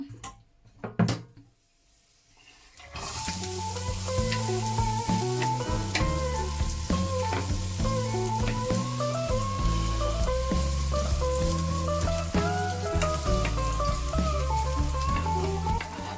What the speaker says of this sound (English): Onto our pan, we're going to add cooking oil, okay?